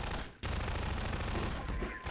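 Bursts of gunfire in the Half-Life 2 video game: a dense, loud roar of rapid shots that breaks off briefly near the start, then continues as a sustained barrage before easing at the end.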